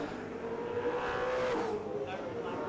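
Historic Group N touring race car driven hard over the curbs at Winton during a 50 km trophy race, a loud sustained engine drone with shifting revs as it passes, under a commentator's talk.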